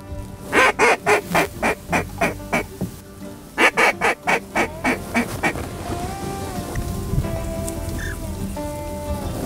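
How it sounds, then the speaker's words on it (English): A flock of ducks in South Louisiana on an opening weekend of duck season calls loudly, with a run of rapid, evenly spaced quacks followed by a longer stretch of drawn-out honking calls over steady outdoor noise. "that's a good bunch of ducks"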